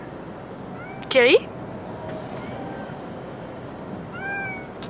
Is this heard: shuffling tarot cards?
no